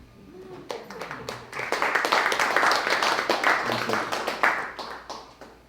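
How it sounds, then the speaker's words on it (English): Audience applause at a poetry reading in a Santa Rosa, California lounge swells quickly into a dense burst of clapping, holding steady for several seconds before tapering off, with some voices mixed in. "I'll tell him you all clapped tonight."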